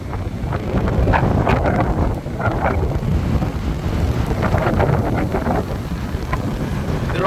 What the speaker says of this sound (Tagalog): Biglang lakas naman doon ang kahit ng hangin.